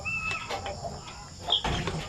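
Young chicks in a coop on a rainy-season farm cluck and peep softly while feeding, with faint scattered pecking taps and rustling close by.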